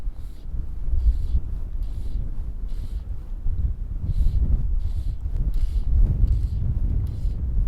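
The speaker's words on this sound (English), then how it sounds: "Apologies if that wind is a bit distracting. It is very gusty today." Gusty wind at Rutland Water on the shore of the fishing ground buffets the microphone in a steady low roar, swelling in repeated surges for several seconds with no talk.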